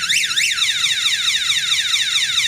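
A thermocouple temperature alarm wails in a fast repeating rising-and-falling sweep, loud and steady, with no voices.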